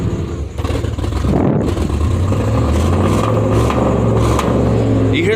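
Lifted pickup truck's exhaust rumbling loudly up close as the engine revs steadily, with occasional sharp pops breaking through the continuous low drone.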